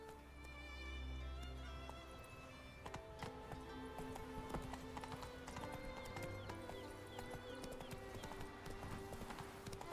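Hooves clip-clop in a quick, steady rhythm as a horse is ridden in The Witcher 3: Wild Hunt, close and clear over soft background music, with a brief snort or whinny near the start.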